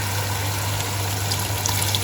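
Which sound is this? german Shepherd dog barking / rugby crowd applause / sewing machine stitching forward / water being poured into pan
water being poured into pan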